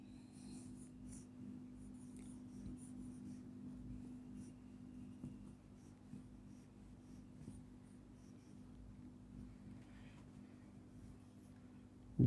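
Pen scratching across paper while an equation is written out in a physics lesson on optics, a steady soft scritching in short strokes over a low background hum, with no talking.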